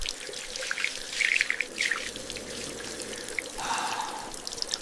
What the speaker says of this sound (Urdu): دونوں ہاتھ کلائیوں تک 3 بار دھوئیں۔